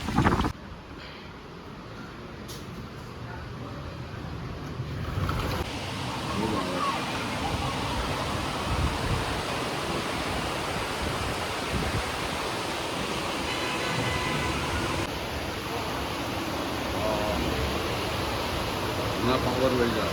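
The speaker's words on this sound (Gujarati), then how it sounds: "ફાઇનલી વરસાદ ચાલુ થઈ ગયો બપોર પછી." Heavy afternoon rain pours down in Surat, a dense continuous roar that stays loud and even from start to finish, with faint voices buried beneath it.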